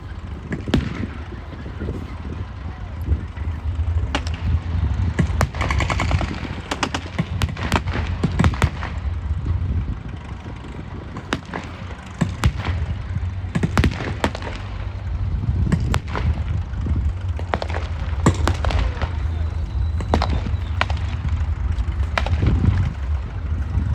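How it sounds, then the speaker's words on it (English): Rifle and machine gun blank fire at a WWII battle re-enactment at Bovington, irregular sharp cracks and short bursts heard at a distance over a continuous low rumble of engines, without talking. "Sherwoods are pinning the Africa Corps down with rifle fire and machine gun fire."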